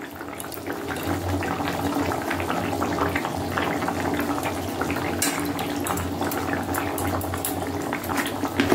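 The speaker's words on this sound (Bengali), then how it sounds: "ফুটে গেছে, নামিয়ে দেবে তবে?" A pot of food boiling on the stove, a continuous close bubbling and gurgling of liquid with a steady rolling texture and a few louder pops, no voices.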